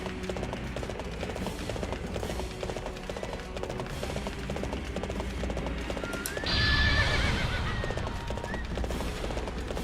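In the video game Warriors Orochi 3 Ultimate, a horse gallops with rapid, steady hoofbeats throughout and gives a loud whinny partway through, with battle noise in the background.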